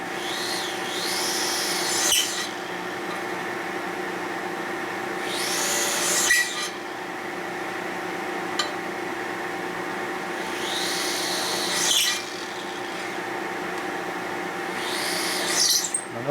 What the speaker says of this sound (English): Now notice how the reamer doesn't dig in and try to rip out of your hand like a drill would.